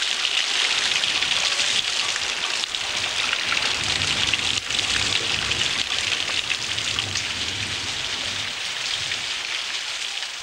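Heavy rain pours steadily at a remote airstrip, a loud, dense, continuous hiss of drops drumming on surfaces close by with no break.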